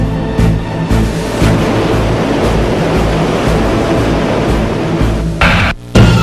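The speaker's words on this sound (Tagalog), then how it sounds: "Tatlumpung talampakang tsunami ang humampas sa dalampasigan" Thirty-foot tsunami waves crash onto the shore in Japan, a loud, continuous roaring rush of churning water that surges steadily before dropping off briefly near the end.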